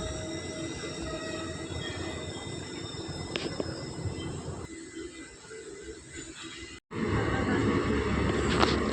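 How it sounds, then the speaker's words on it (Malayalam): Maveli Express train rolls into the second platform at Vadakara railway station: a steady rumble of wheels and carriages, heard from inside with faint chatter, drops lower as it slows, then a brief cut and a louder rumble returns. "അങ്ങനെ വടകര റെയിൽവേ സ്റ്റേഷനിലേക്ക് നമ്മുടെ വണ്ടി എത്തിച്ചേർന്നിരിക്കുകയാണ് രണ്ടാമത്തെ പ്ലാറ്റ്ഫോമിലേക്കാണ് വണ്ടി എത്തിയത്"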